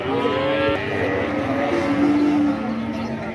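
Cattle at a busy livestock market low in a few drawn-out moos, moderately loud amid a constant crowd murmur and someone talking nearby.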